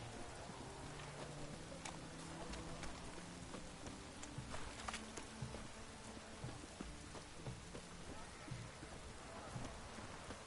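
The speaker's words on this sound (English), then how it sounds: "It's raining this side of the pond town." Rain falling in The Witcher 3 video game during the Hearts of Stone expansion, a quiet, continuous patter of drops with scattered sharper taps on surfaces throughout.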